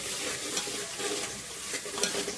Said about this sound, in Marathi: सगळं मिक्स करून घ्यायचं